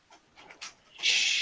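A dog pants close by in a room during a tabletop role-playing game session: faint shuffling sounds at first, then a loud burst of steady, breathy panting that fills the final half second.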